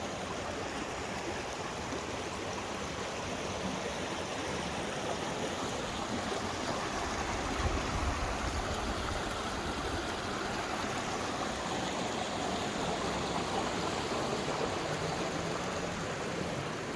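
A stream rushes steadily past a bridge at a trail water crossing along the Appalachian Trail, a constant broad wash of flowing water heard close with no voices.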